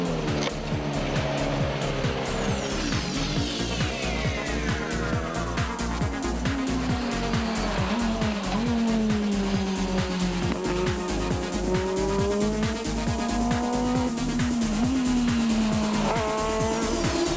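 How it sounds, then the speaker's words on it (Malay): A Formula BMW single-seater race car is driven hard, its engine note rising and falling through gear changes with tire squeal, loud and continuous throughout with no voices. "Formula BMW."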